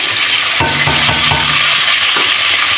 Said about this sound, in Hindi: ये मैं ऑयल में डाल दूँगी। बस थोड़ा सा इसका कच्चापन निकालूँ, हल्का सा भून के इसको